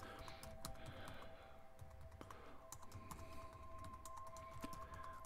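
Faint, quick clicks of typing on a computer keyboard, irregular taps spread steadily over a quiet background hum.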